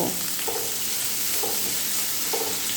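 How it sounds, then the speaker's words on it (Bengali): Chopped onions frying in hot oil with cumin and panch phoron, a steady, dense sizzle throughout with a few soft stirring knocks, close and continuous, no talking. "এবারে এই তেলের সঙ্গে পেঁয়াজগুলো একটু ভালো করে ভেজে নেব"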